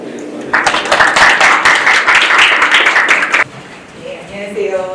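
An audience at a national university performance forum applauds for about three seconds, a dense burst of clapping that starts suddenly and then stops, leaving quiet room sound.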